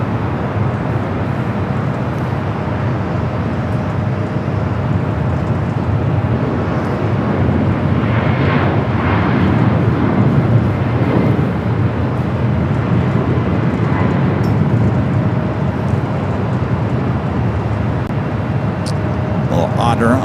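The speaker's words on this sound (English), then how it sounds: "Do have a heavy going to be taking off on the south side at DHL ABX Air Flight 403" A converted 36-year-old DHL ABX Air Boeing 767-300ER freighter takes off from LAX in a long continuous jet rumble, with people talking over it throughout.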